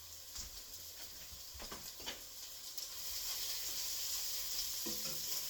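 Red cabbage tipped into a pan of browned sausage and onions, setting off a steady, quiet sizzle with a few soft stirring scrapes and knocks near the start.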